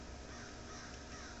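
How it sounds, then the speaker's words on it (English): A crow caws outdoors, a short harsh call only partly standing out from steady broadband noise that fills the whole second and a half. "hear a crow"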